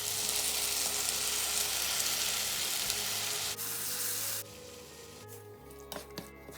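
Boiled tomatoes fry with egg in a pan, a loud steady sizzle that drops in intensity partway through, with a few clinks of a spoon stirring near the end.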